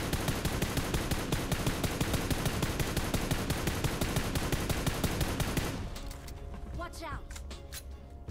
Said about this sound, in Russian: Там стрельба.